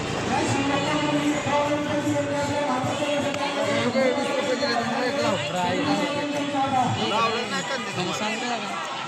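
Devotees crowd a Shiva temple in Tuljapur on Mahashivratri, a dense babble of many voices and chatter that stays loud and steady throughout at close range.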